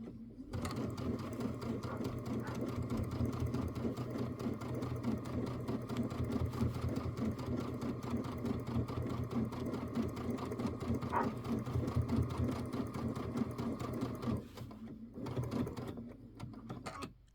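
A sewing machine stitches through a layered quilt in one steady, continuous run, fairly close and even in speed, stopping near the end before a brief restart.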